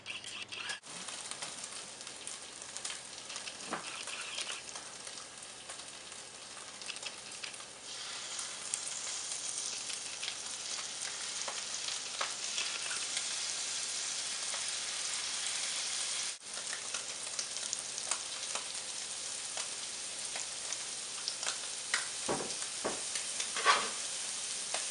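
Scallops sear in a hot pan, producing a continuous bright sizzle with small crackles and scraping clatters over a kitchen background, close and fairly loud throughout.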